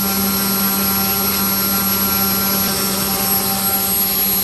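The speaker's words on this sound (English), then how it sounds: "14 minutes running. The motor hasn't stopped." Electric motor of a Super Chipmunk model aircraft running steadily at half throttle on a bench test, a loud, continuous whine with fixed tonal hum and no change in pitch.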